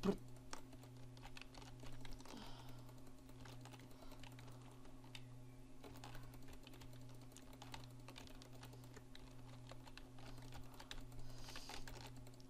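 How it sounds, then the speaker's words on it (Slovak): Computer keyboard keys patter quietly during a Minecraft session, with soft, steady clicking over a low electrical hum. "Mne si tá klávesnica robí, čo chce."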